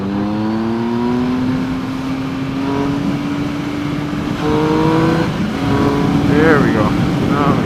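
A Triumph Speed Triple R motorcycle engine pulls under acceleration, its close, loud tone rising steadily in pitch through the gears with a smooth, torquey drone.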